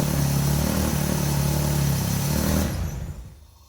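Up close, a Vauxhall Calibra engine runs rough with its airflow meter unplugged, its steady hum holding for a couple of seconds before cutting off and fading into quiet.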